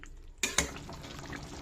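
Spices, ground cumin, turmeric, salt and meat masala sautéed in a pan: a quiet start, then two sharp scraping clacks of a spatula followed by a steady soft sizzle with light stirring scrapes.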